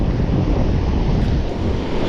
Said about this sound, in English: it's a little windy, if not like very windy